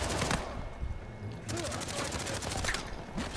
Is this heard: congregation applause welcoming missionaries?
no